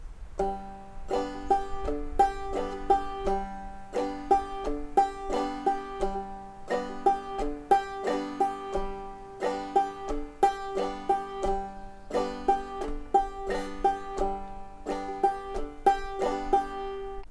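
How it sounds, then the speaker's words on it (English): Electric bass plays a slow alternating double-thumbing exercise on the fourth string, percussive thumb strokes with snappy attacks in a steady repeating groove, close and dry with no talking. "our alternating double thumb will be at the fourth string"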